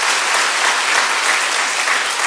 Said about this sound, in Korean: 박수로 하나 하겠습니다.